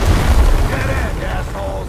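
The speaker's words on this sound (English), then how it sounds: "Throwing a grenade!" A grenade explosion in the video game Gears Tactics gives a loud, sustained low boom that rumbles steadily for almost two seconds and then thins into a fainter, rougher tail.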